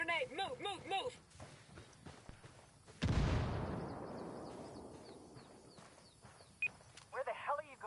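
A grenade goes off in a first-person shooter video game, one sharp loud blast followed by a long, slowly fading rumble, with voices speaking before and after the explosion.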